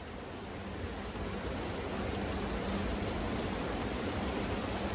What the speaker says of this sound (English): The roof of this building is made of metal. It's very loud.